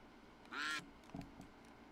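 Ducks quack in a loud, short burst, followed by a couple of fainter quacks, with nothing else over them.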